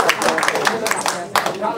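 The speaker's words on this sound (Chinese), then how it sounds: "来，王湘瑞，大家掌声" Audience applause at the founding meeting of a Hong Xiuzhu supporters' association in Atlanta, a crowd clapping in a dense, uneven patter with voices mixed in throughout.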